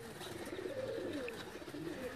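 Batera pigeon softly cooing on a rooftop loft, faint and distant under steady outdoor background noise.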